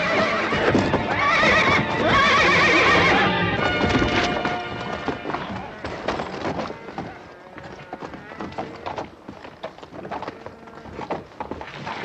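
A horse whinnies loudly and shrilly near the start, followed by rapid hoofbeats and thudding movement that fade somewhat toward the end.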